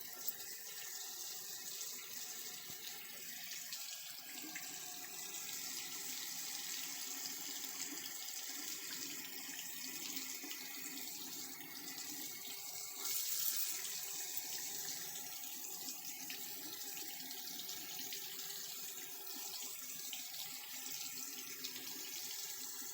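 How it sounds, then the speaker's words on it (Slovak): Hot water from a Junkers boiler runs from a tap in a steady, continuous hiss and splash, heard close and alone for over twenty seconds. "keď pustím teplú vodu"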